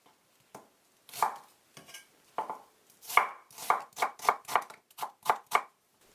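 A knife chops garlic cloves on a cutting board in a run of crisp, close thuds. They start sparse, then quicken into a steady burst, with no voices.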